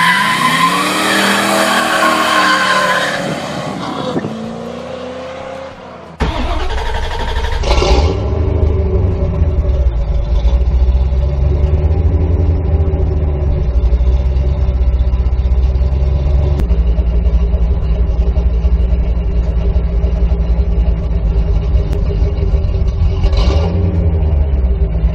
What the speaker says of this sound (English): Let's get a nice cold start because I know you all want to hear it.